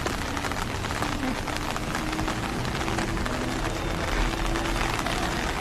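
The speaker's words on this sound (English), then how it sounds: "But it's a nice and warm rain." Steady rain falls on the city streets of Shanghai, China, a dense, even patter with faint drops and a constant low background hum of the street.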